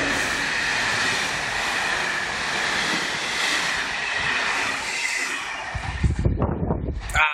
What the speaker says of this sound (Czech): A jde vláček